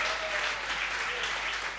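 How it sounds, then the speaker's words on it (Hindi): Audience applause at a Hindi hasya kavi poetry recital: a dense, even wash of many people clapping together, steady and loud throughout with no voices over it. "एक बार तालियां जरा मिलके बजाएंगे तो अच्छा लगेगा साहब।"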